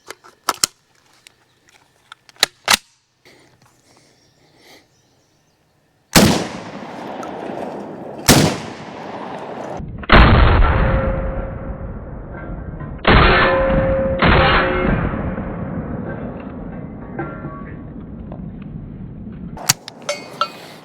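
Panzer Arms AK Twelve semi-automatic shotgun fired at an outdoor range: several loud, sharp blasts spaced unevenly, each followed by a long ringing decay, with quieter mechanical clicks and handling noises between shots.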